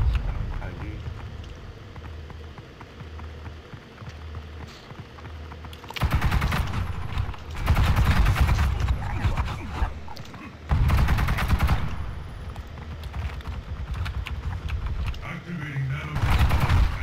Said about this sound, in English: I was shooting for a while with tap shots.